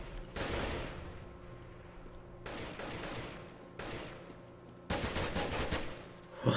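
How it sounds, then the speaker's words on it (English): Bullets whiz past on dust2 in Counter-Strike in four separate bursts of rapid gunfire. Each stretch is loud and rattling, with short quieter gaps between them. "Bullets whizzing above Hazed Head."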